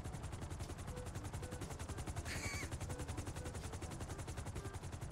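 Attack helicopter miniguns fire in the GTA video game, a rapid, steady stream of shots that rattles on without a break for the whole stretch, with a faint helicopter drone underneath.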